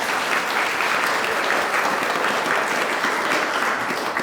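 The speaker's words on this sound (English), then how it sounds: "Let's give them a round of applause." An audience gives a steady, full round of applause for interviewees at an interview event, dense continuous clapping filling the room at an even, fairly loud level from start to finish.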